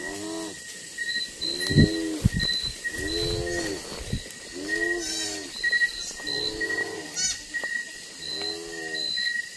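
Goats bleat repeatedly in long, wavering calls, several animals close by in a forest, with birds chirping faintly in the background.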